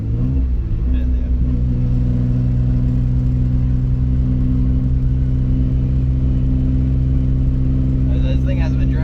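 Nissan 300ZX, not driven for a couple of years, pulling through the gears on the road: a steady, loud engine drone with strong low harmonics, a rev change near the start and faint voices near the end.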